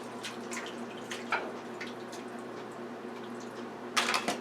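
A tap runs while hands are washed under it in a kitchen sink, a steady close splashing stream with sharper splashes near the end, no talking.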